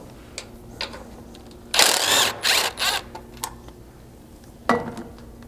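A hand ratchet works a bolt just ahead of the rear control arm mount on a Lexus LX 570, giving a few quick bursts of clicking separated by quiet pauses, close and clear.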